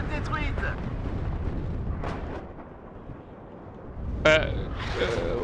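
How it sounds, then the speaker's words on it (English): Artillery from two 155mm howitzers lands during a WARNO match: a rumbling series of distant booms and crumps, with one sharper close blast near the end, while a voice talks over it. "This is a whole barrage from two 155mm howitzers that cost 460 points"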